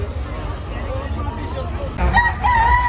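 A rooster crows partway through, sounding fairly close, over a steady background of crowd chatter and outdoor noise at a cockfighting derby.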